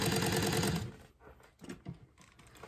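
A sewing machine back stitches over a letterman jacket patch near the wrist: a dense, loud run of stitching that cuts off after under a second, followed by quieter scattered mechanical clicks and taps.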